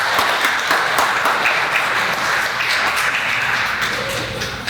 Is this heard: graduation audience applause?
yes